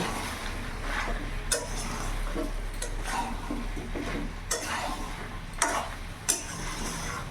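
Papaya and new potatoes stir-fried with chicken in a pan: a steady low sizzle runs throughout, with occasional sharp scrapes and clinks of a spatula against the pot.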